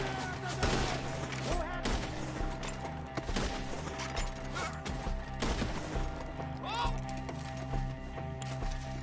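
Gunfire rattles through a woodland fight in the video game Red Dead Redemption 2, with repeated shots and bursts at close range, mixed under shouting voices and game noise.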